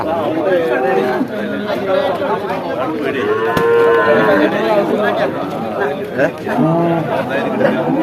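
Cattle, including a buffalo calf, moo and low at the busy Kollannur livestock market while people chatter and talk nearby, a crowded outdoor din throughout.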